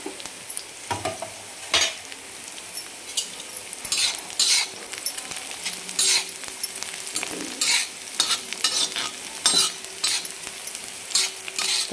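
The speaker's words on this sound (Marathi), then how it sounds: "हिरव्या मिरच्या कट करून घेतलेल्या त्या टाकणार आहे. त्याला पण 1 मिनिटभर आपण परतून घ्यायचं." Chopped green chillies frying on an iron griddle, a steady close sizzle with repeated scraping and clinking as a utensil stirs them against the metal.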